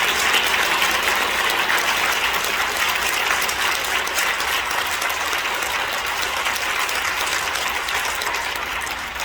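Sustained applause from a large congregation at a church thanksgiving service, dense and even clapping that stays loud throughout and eases slightly at the end.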